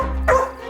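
A single short, sharp dog bark rings out close and loud over a steady low background hum in a television drama scene.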